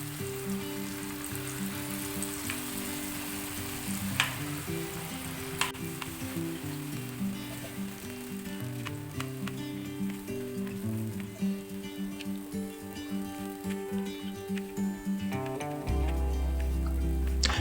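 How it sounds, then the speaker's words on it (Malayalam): Cauliflower pieces deep-frying in hot oil, a dense continuous crackling sizzle with occasional sharp pops, close up, steady throughout with a louder low rumble near the end, no voices. "ഞാൻ കോളിഫ്ലവർ വറുത്തെടുക്കുകയാണ്."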